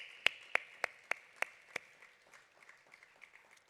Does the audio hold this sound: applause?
yes